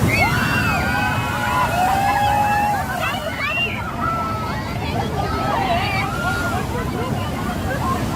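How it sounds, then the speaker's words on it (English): Ocean waves crash onto the shore in a continuous wash of surf and wind noise, with a voice talking over it throughout. "a massive wave crashed onto the shore."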